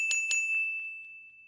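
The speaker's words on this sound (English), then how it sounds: "these bells move up and down each time they play" Bell tones from the Thirty Dollar Website music tool ring out as a few quick electronic dings, two bright strikes followed by softer repeats that fade into a sustained ringing tone.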